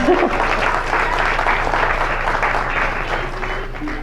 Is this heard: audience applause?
yes